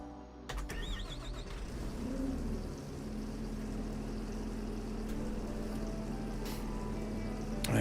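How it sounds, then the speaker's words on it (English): A tractor engine idles steadily in the Farming Simulator 25 video game, a continuous low drone with a faint tonal hum. Brief high chirps and a squeal come near the start, with no speech. "That tractor's running."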